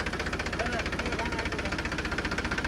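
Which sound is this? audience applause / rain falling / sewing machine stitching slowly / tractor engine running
tractor engine running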